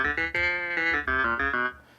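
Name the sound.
clavinet keys sample played on MPC Live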